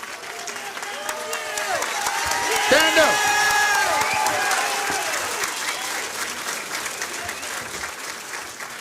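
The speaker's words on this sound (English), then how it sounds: "Give yourself an applause." Parents and friends at a Co-op Tech 2023 completion ceremony applaud, steady crowd clapping swelling around the third second and continuing throughout, with a voice speaking over it near the start.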